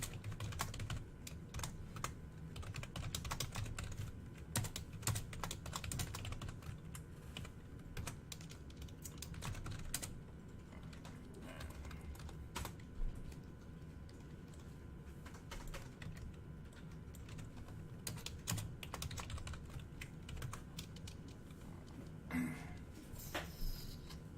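Computer keyboard typing, a long run of quick irregular key clicks with brief pauses, faint and close in a quiet room, no speech.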